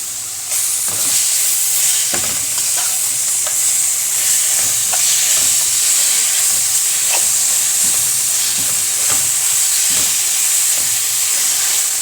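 Spiced tomato sauce with garlic hits toasting bread in a hot pan and sizzles loudly and steadily, a continuous close hiss of frying with small crackles throughout.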